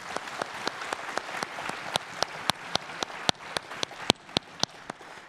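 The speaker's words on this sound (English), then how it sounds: "Give them a big clap." An audience at a plenary panel applauds the speakers, a dense, sustained wash of clapping with sharp individual claps standing out, fairly close and steady for the whole stretch.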